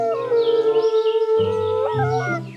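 A toy wolf plays a recorded howl, one sustained wavering tone, loud and close, that lasts a little over two seconds with no talking.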